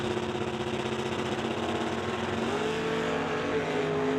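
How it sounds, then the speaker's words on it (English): Two drag cars, a 1967 Plymouth and a 64 Nova, launch hard at an NHRA summit bracket race, engines roaring loud and steady with rising, layered revving throughout. "Rob leaving first in a big wheelie for Mark and a red light"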